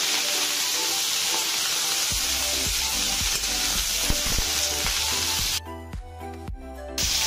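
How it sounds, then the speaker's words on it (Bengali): Mixed vegetables frying together in a pan in a home kitchen, a steady bright sizzle with intermittent stirring clatter and scraping, close and alone. "আর দেখো সব সবজিগুলো একসাথে ভেজে নিচ্ছি"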